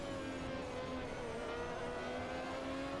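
1991 Formula 1 cars racing in Brazil in Automobilista 2, a Minardi with a Ferrari engine close behind a Yamaha-powered car, a steady high-pitched engine whine held at constant revs, loud and continuous.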